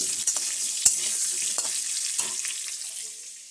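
Potatoes frying with turmeric in a pan: a soft sizzle with a few sharp clicks and scrapes of a spatula against the pan, fading quieter toward the end, no speech.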